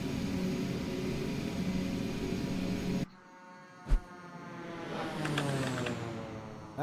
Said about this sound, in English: Not bad on the flyby sound